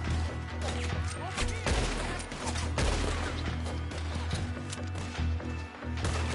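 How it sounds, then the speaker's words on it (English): Gunfire in Red Dead Redemption 2, a rapid volley of sharp shots cracking over a dense, constant game soundscape, moderately loud and continuous with no clear speech. "How many times do I have to fucking shoot you?"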